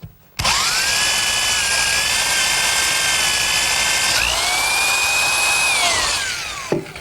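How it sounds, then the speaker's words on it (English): A power drill bores through the bottom of a wooden shop cabinet for caster bolts, a loud steady whine held for about six seconds that shifts pitch partway through, then winds down and stops. "now I'll finish drilling it through the bottom"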